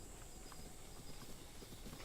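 A horse in the video game Zelda Breath of the Wild clip-clops at a quick, steady pace, its hoofbeats faint and soft under a wash of game background noise.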